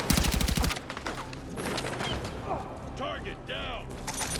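Battlefield 6 gunfire opens with a rapid automatic burst, then gives way to sustained battle din with scattered shots and whistling effects, mid-distance and fairly loud.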